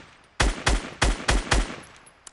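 Five heavy gunshots from a PS4 shooter video game, fired in an even, spaced rhythm. Each is a loud, sharp blast with a booming low end, over a quiet background, with no voices.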